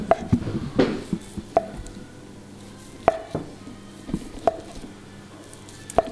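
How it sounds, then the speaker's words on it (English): A knife slicing mozzarella on a board, a series of separate soft thuds and taps of the blade at uneven intervals, close and fairly quiet with no talking. "the only thing that we have to do still is to cut the mozzarella"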